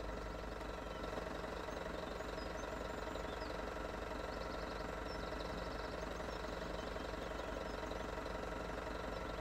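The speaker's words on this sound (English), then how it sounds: "The vehicles have their engines running." Farm vehicles in the video game Farming Simulator 17 idle with a steady, unbroken mechanical hum and low rumble, constant in level throughout with no other sounds.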